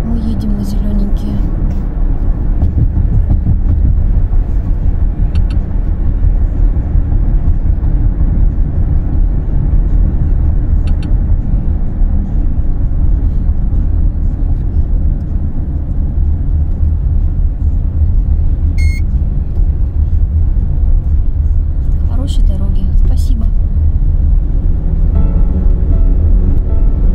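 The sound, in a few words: car driving on a toll road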